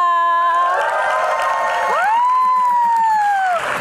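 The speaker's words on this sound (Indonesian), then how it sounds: "Tepuk tangan dong." Studio audience at a talk show greeting a guest with applause and cheering, a loud crowd mixing whoops and clapping over a bright, tonal background.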